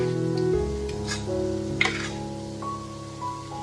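Egg pancake batter sizzles in an oiled pan, a steady close frying crackle with the scrape of stirring or spreading running throughout, alone without any talking.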